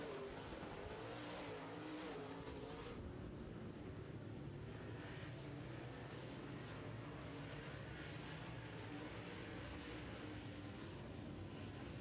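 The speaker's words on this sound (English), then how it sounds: "3 cars battling it out for 3 spots" Engines roar continuously as several cars race past at close range, a dense, steady rumble with shifting pitch and no pauses.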